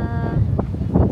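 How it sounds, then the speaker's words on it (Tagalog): Strong wind buffets the microphone with a steady low roar and gusty rumble, close and loud, with a voice faintly underneath. "Ay, sobrang hangin talaga."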